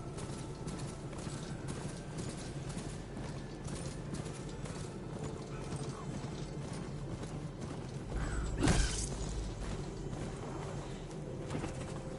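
Horse hooves clip-clopping in the video game Horizon Forbidden West, a steady run of quiet rhythmic clops under ambient game sounds and birds, with one louder thump partway through.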